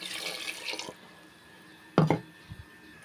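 A short pour of water splashes into a pan after a brief rustle, followed by a couple of small drips.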